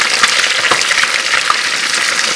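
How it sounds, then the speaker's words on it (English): Food lightly frying in heated canola oil for a chicken tomato stew gives a steady, close sizzling hiss that runs unbroken throughout. "So I'm going to put this in heated up oil here, and you just fry it lightly"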